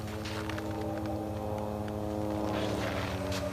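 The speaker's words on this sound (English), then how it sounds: "Finally hearing that plane." A distant airplane drones as a faint, steady low hum, constant throughout with no voices over it.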